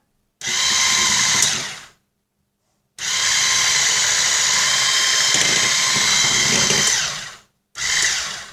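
Kitchen food processor whirring at turbo speed while mixing chocolate cake batter, a loud steady motor whine in three bursts with short silent gaps between them.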